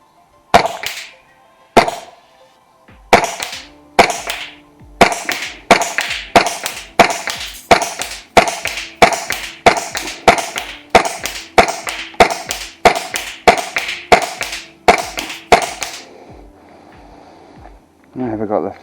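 A gas-powered Golden Eagle Hi-Capa airsoft pistol in a 1911 IPSC build fires about twenty sharp, loud shots in a steady, fairly quick rhythm, each crack cut off short, with a faint clatter after the last.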